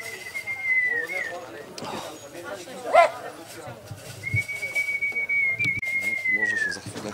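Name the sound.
racing pigeons cooing at loft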